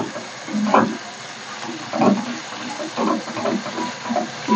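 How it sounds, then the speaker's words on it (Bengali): Brinjal pieces fry in hot oil with salt, a steady soft sizzle broken by several louder bursts of crackling, close by with no talking. "লবণটা দেওয়াতে বেগুনগুলো নরম হয়ে গেছে, হালকা করে ভেজে নিতে হবে"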